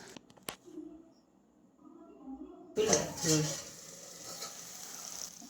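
Mushroom curry is stirred in a pan: after a quiet stretch with faint knocks and a short vocal sound, a spoon scrapes and clatters loudly, then settles into softer sizzling stirring.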